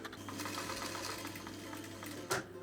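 A vintage industrial Singer 95K sewing machine hums steadily up close under power while not stitching, ending in a short clunk.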